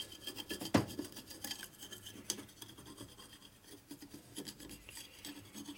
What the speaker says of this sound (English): scrape the gaskets off a little bit